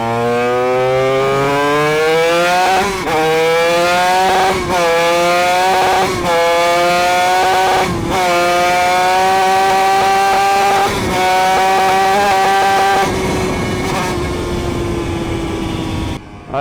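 A Honda RS125 NF4 two-stroke motorcycle engine revs hard and high, stuttering around 11,500 rpm, its pitch climbing and wavering with brief stutters, loud and close throughout.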